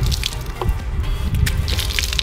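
A hand rubs water into a wet t-shirt, giving close, continuous squishing and dripping sounds with a few brief splashes, heard alone.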